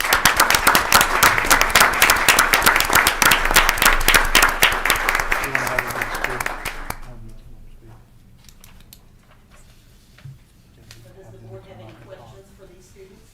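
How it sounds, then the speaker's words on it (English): Audience applause at a school board meeting, a dense burst of many hands clapping for about seven seconds before fading into quiet room noise with faint murmuring. "So let's give them a round of applause."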